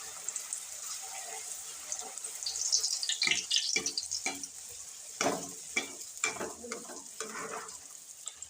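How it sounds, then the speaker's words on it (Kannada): Puri frying in hot oil, a close bubbling sizzle with splashes and stirring scrapes that swell and ebb, under a faint background voice. "ಈಗ ಹಿಂಗೆ ಉದ್ಕೊಂಡು ಕರಿಯೋದು ತೋರಿಸ್ತೇನೆ ರೀ"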